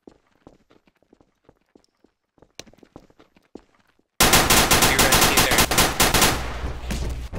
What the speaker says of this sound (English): Why are you shooting at Walter?